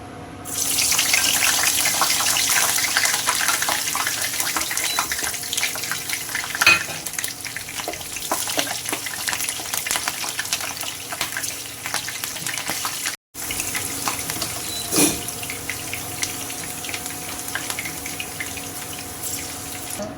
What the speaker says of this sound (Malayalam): നമ്മുടെ വെളിച്ചെണ്ണ ചൂടായി വന്നിട്ടുണ്ട്. അതിനകത്തോട്ട് ഒരു 4 പച്ചമുളക് 2ആയി കീറിയതാണിത്.